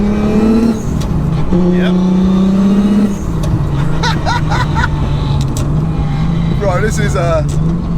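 A tuned car under throttle, a loud steady engine drone that holds and pulls from inside the cabin while people talk and exclaim over it.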